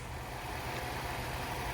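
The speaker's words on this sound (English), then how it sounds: "Nice and smooth running engine." A 2008 Hyundai Sonata engine idling smoothly, a steady low hum with even, unbroken rhythm, heard fairly faint and alone without talk.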